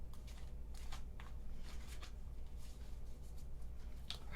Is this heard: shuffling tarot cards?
yes